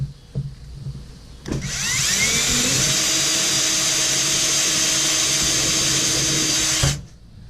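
An electric drill bores a hole into a golf ball: a few knocks, then a steady, loud motor whine that climbs in pitch as it spins up and runs for about five seconds before cutting off.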